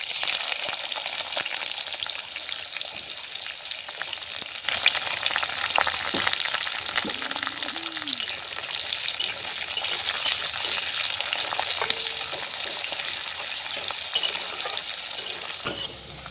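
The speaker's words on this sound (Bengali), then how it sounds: "এই দেখো পেঁয়াজটাকে লাল লাল করে একটু ভেজে নিয়েছি।" Chopped onion and green chili fry in hot oil for semolina upma, giving a steady close sizzle with occasional light clinks of a utensil against the pan and no talking.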